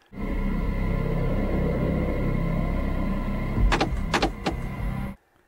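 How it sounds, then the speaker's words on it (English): Car door lock being engaged inside a vehicle: a steady engine hum and rumble, then three quick mechanical clunks of the lock, close and clear, with no voices. "He just locked the fucking door already."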